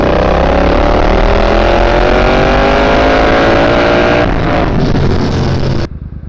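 Triumph Bobber motorcycle engine, freshly rebuilt, held steady at about 3,000 RPM in third gear on a road test, a loud continuous drone with wind rush that drops off sharply near the end.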